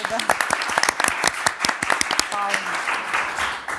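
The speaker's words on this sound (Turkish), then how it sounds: "O zaman size bir alkış verelim öncelikle" Studio audience applause for a contestant on a Turkish word game show, a steady patter of claps carrying through the clip with a host's voice speaking over it.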